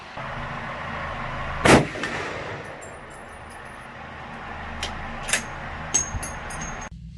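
A .50 BMG rifle round strikes a Bluegrass steel target with one sharp, loud crack, followed by a few fainter metallic pings and clinks spaced over the next seconds.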